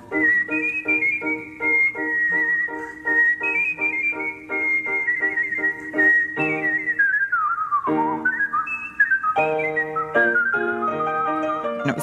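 A single person whistles a lilting melody alone, with sustained pitches that waver, slide downward and then leap back up.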